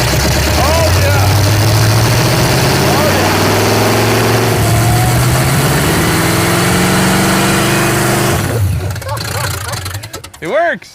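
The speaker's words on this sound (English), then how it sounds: "Yeah, rev it up." The Roadkill Boost Caboose's engine runs loud and close, its pitch rising and falling as it revs before dropping away near the end, with voices mixed in.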